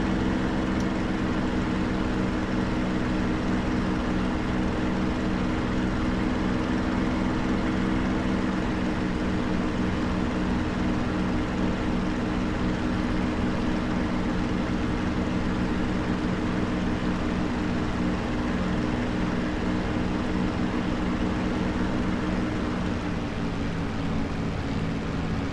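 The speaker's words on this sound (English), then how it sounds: "It's like a happy little plane." A P-51D Mustang propeller fighter in flight heard from inside the cockpit, its engine a loud, steady, unbroken roar with constant droning tones and airflow hiss that fill the whole stretch.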